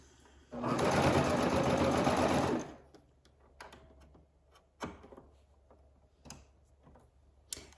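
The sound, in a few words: serger overlocking the edge of fabric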